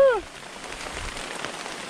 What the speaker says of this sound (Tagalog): Pero ulan na ito. Malalakas na eh.